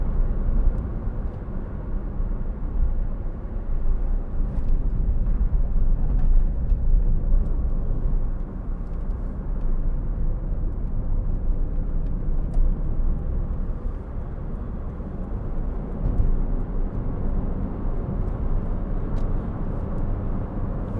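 A 2007 Suzuki Swift 1.5 GLX engine drones steadily for a long stretch, its pitch rising and settling as it pulls through the gears, with road rumble underneath.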